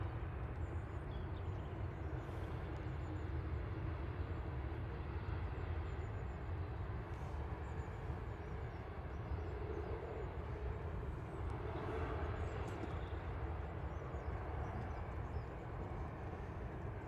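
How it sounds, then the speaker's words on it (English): A TUI airliner taxiing out at Manchester Airport makes a steady, low, rumbling jet-engine roar heard from a distance, holding at an even level throughout with no voices. "Got another TUI taxiing out"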